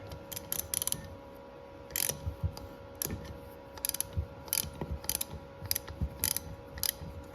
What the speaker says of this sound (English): put a ratchet on it